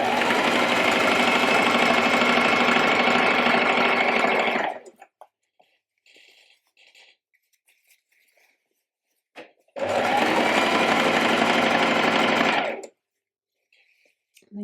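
Sewing machine stitching over a dress strap on a shirred back dress, running in two steady loud bursts of several seconds each, with a quiet gap of small handling noises between them.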